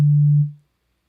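A pure sine tone from oscillator A of Ableton's Operator synth, transposed down, sounds as a single steady low hum held for under half a second before fading quickly to silence.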